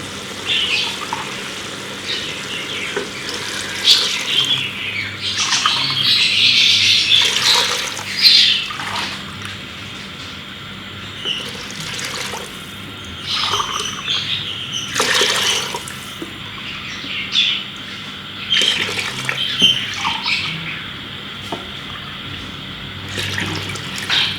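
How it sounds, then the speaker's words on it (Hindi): Water pours into rice for chickpea pulao, heard as splashing, gurgling bursts that come and go in uneven pulses over a steady faint hum, close up and with no talk. "अब इसमें पानी डालेंगे।"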